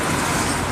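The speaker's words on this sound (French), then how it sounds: "Dacia Duster." A Dacia Duster passes in street traffic near a seaside walk, a steady broadband road rumble with no distinct pass-by peak, brief and fairly loud.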